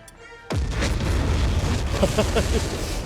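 An explosion in the real-time strategy game Company of Heroes 3 bursts in suddenly after a quiet half second, then rumbles and crackles on in a loud, dense wash of battle noise while voices talk faintly underneath.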